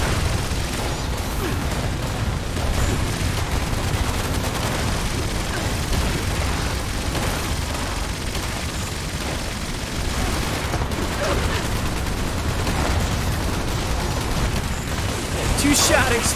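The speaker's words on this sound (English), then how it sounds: "Two-shot exploding freaking Magnum." Two-shot exploding Magnum rounds fire in a video game, heard as dense, continuous bursts and pops over busy game noise, loud throughout the stretch.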